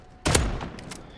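A single loud blast from the R9-0 shotgun in Modern Warfare, a sharp close report trailing into a short decaying tail with faint follow-up clatter.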